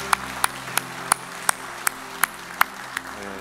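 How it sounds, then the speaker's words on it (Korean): Single pair of hands clapping in a church service during applause for mothers, about ten sharp evenly spaced claps over a low background hum, fairly close and steady in rhythm. "우리 앞에, 뒤에, 옆에 계신 어머니들께 우리 큰 박수로 한번 격려해 주시죠."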